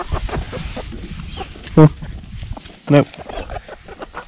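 Backyard hens in a French garden give two short, loud clucks, spaced about a second apart, over someone talking and faint outdoor background noise.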